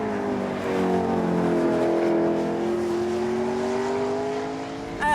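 A race car engine at a supercar paddock drones steadily with a rising, harmonic-rich tone, loud and close, as the revs climb gently. A short sharp noise comes at the very end.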